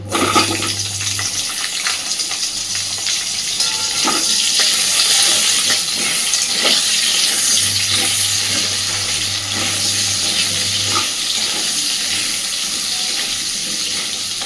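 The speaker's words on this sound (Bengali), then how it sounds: "এই তেলে এবার আমি আলুগুলোকেও ভেজে তুলে নেব।" Potatoes fry in a pan of hot oil, giving a loud, unbroken sizzling hiss that holds steady the whole time, heard up close with no talking.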